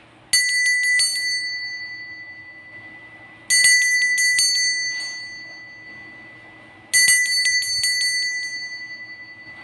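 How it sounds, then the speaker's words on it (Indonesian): A bright metallic bell rings loudly three times at even intervals of about three seconds to signal the start of a card reading. Each ring is a quick run of strikes followed by a long, fading shimmer. "kita akan memulai dengan ditandai lonceng berbunyi"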